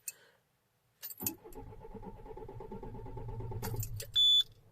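A door clunk and keys jingling, then the engine of a faulty Citroën C4 Picasso 2.0 HDi idles steadily before a loud, brief electronic beep near the end.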